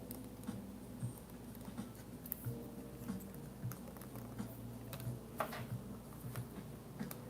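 Light, quiet typing on a keyboard sounds as irregular soft ticks and taps patter close by through a faint, steady room hum.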